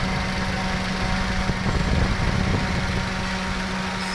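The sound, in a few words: car radiator electric cooling fan running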